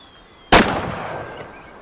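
A single loud, close shot from a Steyr .223 rifle cracks sharply after a quiet moment outdoors, then rolls away in a long fading echo.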